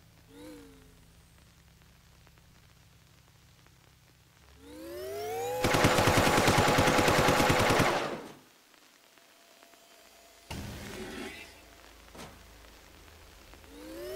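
A warning shot fired in The Turing Test video game: a loud burst of dense crackling noise lasting a few seconds, with rising tonal sweeps before it and a shorter sharp burst afterward.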